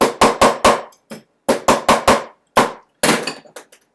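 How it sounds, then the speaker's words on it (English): Hammer strikes flattening a metal piece for an art project, sharp ringing blows in quick bursts of three or four with short pauses between, close and loud with no talking. "hammering this out is going to give it a little bit more unique character"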